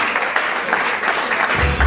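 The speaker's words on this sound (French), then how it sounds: "Papa Mafiokele va le représenter valablement sous nos applaudissements" An audience at an awards ceremony honoring comedians and artists applauds in a loud, dense burst of clapping that lasts the full short moment, with a low thump near the end.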